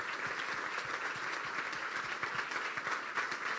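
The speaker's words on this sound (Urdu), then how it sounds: "زوردار تالیاں خدا کی خادمہ کے لیے, اس زندہ کلام کے لیے" Applause from a church congregation at a worship service, a steady dense patter of many hands clapping throughout, moderately distant and continuous with no voices standing out.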